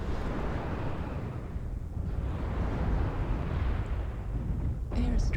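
Rumbling airstrike explosions from a mech combat video game, a dense, sustained low roar filling the clip with a sharper burst near the end.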